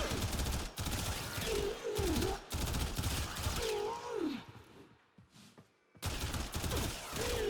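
Primary-weapon gunfire in the video game Warframe, fired at corrupted heavy gunners: dense, loud repeated shots in sustained bursts with brief pauses, mixed with game effects and a short quiet gap near the end.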